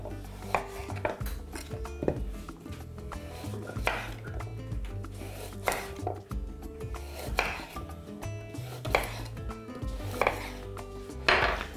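A knife slices two carrots diagonally into thick rounds on a board, steady repeated chops with faint scraping between, close and clear with no talk.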